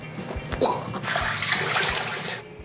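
A hotel shower runs water, a steady broad hiss of spray that starts after a few brief knocks and keeps going at moderate loudness before cutting off, with no talking.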